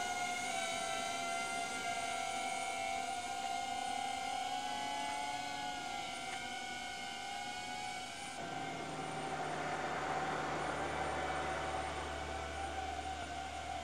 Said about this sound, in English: Okay, the drone is hovering.